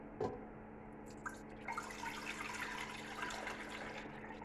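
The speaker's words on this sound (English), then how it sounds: "So I put a little bit of water in that pan." Water poured from a little height into a cooking pan on the stove before cream is heated, a steady splashing trickle that swells after the first second and keeps running close up, with no talking.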